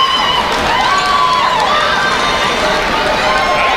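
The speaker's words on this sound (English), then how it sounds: "And literally the crowd goes wild." Crowd cheering and shouting at a kids' ninja competition as a young competitor finishes his run, a steady wash of voices with whistles and shrieks throughout, loud and continuous.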